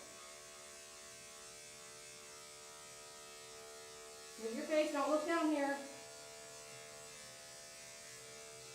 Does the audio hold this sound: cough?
no